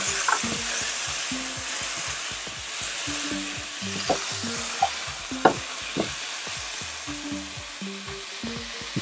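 Tomatoes tipped into a hot frying pan for spicy sweet-and-sour deviled chicken, giving a steady broadband sizzle with scattered stirring clicks and scrapes, close and fairly loud throughout.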